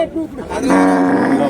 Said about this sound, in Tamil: பசுமாடுகள்லாம் ஜாஸ்தியா இருக்கு